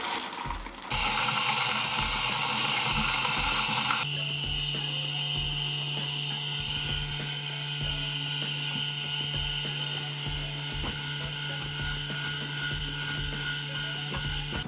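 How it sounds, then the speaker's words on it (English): A Varia VS3 coffee grinder grinds coffee beans with a steady close mechanical whir and gritty crunching, its pitch shifting after a few seconds and then holding level, with brief talk early on. "Let's grind some coffee"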